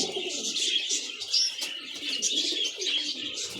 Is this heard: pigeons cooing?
yes